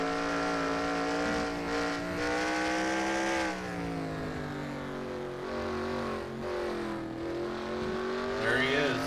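Steady on-board engine drone of the number 9 race car in a racing game at Circuit of the Americas, harmonic tones rising and falling with shifts and throttle changes, loud and continuous while a commentator talks over it.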